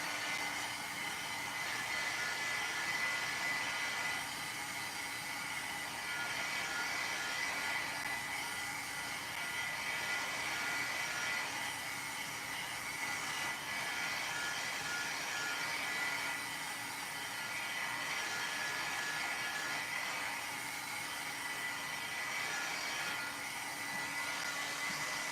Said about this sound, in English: let me go ahead and hit that with a heat gun